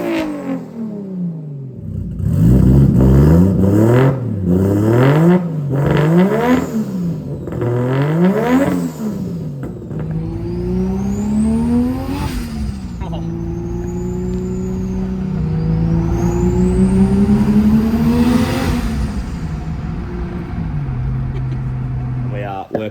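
A BMW engine fitted with a 6-boost exhaust manifold revs hard in a series of rising and falling pulls, then settles into a lower drone, loud and close.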